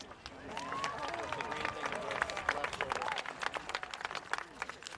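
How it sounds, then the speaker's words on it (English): Scattered outdoor clapping and crowd murmur at a high school commencement, fairly distant and thin, with overlapping voices and occasional whistle-like tones drifting above the applause. "Big applause for her."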